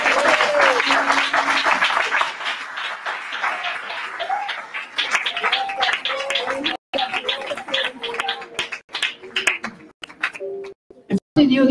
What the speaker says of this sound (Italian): Quanto possiamo applaudire al Signore?